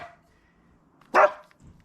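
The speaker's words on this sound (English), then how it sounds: "It's my dog there." A dog gives one short, sharp bark about midway, alone and fairly close, with quiet background before and a faint softer sound just after.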